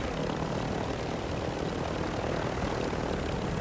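A helicopter in a video game whirs and drones steadily, a broad, even rotor-and-engine roar at moderate volume with no talk over it.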